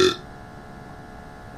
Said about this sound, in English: now I'm gonna do the biggest burp ever